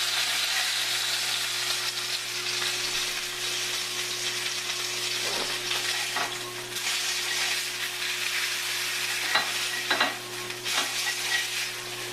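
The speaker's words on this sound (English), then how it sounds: "Give that salmon one more flip." Salmon fillet frying in a pan, sizzling and hissing steadily throughout, with a few louder crackles and a soft scrape as it is turned near the end.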